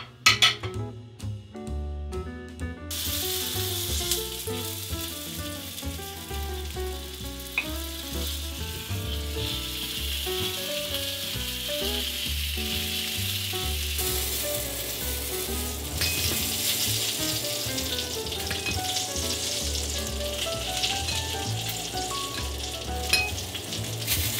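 Potatoes frying gently in oil for a confit give a continuous soft sizzle for nearly half a minute. It sits under steady melodic background music, with no talking.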